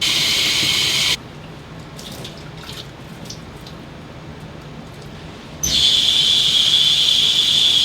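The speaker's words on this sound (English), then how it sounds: "we're going to do a few rounds of washing the filters out with hot water to rinse out the soap" Steady hiss of hot water running from a tap over motorcycle air filters in two loud stretches, with a quieter pause of faint drips and clinks between them.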